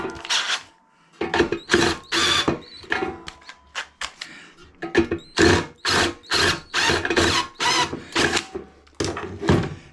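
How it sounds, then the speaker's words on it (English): A power drill bores an 8mm hole in a steel ammo box close to the seam. It gives loud, close whirring bursts, repeatedly started and stopped in a steady on-off rhythm with brief gaps between runs. "so I've drilled my hole"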